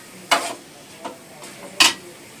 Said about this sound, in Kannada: ಈ ತರ ಸೌತೆಕಾಯಿ ಈರುಳ್ಳಿ ಟೊಮೊಟೊನ ಬಟರ್ ಅಲ್ಲಿ ಫ್ರೈ ಮಾಡಿದ್ರೆ